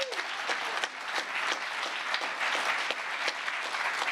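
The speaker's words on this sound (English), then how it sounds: "So how about a round of applause for Chief Master Sergeant Roger Tauberman." An audience applauds steadily at a U.S. Space Force anniversary event honoring the first enlisted member, dense clapping from a crowd filling the room at an even level throughout.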